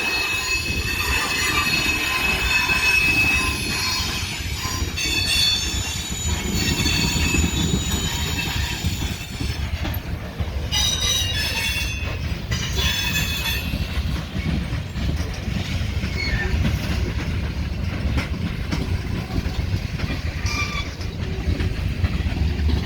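A CSX mixed freight train rolls steadily through a curve at Fostoria, Ohio, with loud, sustained wheel squeal and continuous rumbling of railcars throughout.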